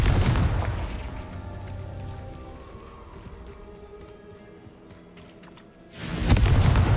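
Explosions from the Confringo fire-blast spell in Hogwarts Legacy: a loud booming burst opens, a low rumbling tail follows for several seconds, and a second heavy blast erupts near the end.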